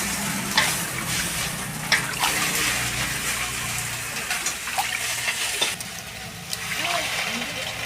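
Susni shak greens frying in hot oil for a Bengali meal, a steady hiss of sizzling with a few sharp clicks and light stirring scrapes throughout, close by and moderately loud.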